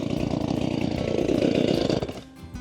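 A chainsaw engine sputters and runs with a rapid, buzzing pulse after being pull-started, then stalls and drops away near the end.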